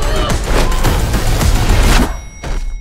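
The cannon car from the 2023 film Fast X fires rockets in a loud, rapid burst of booming blasts and thuds, followed by a brief lull and one more distant crack.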